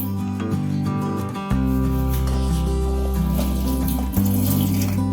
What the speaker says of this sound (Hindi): अब इसका हम पानी ड्रेन कर देंगे।